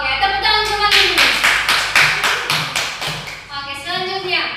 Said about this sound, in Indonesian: Oke, tepuk tangan sama dulu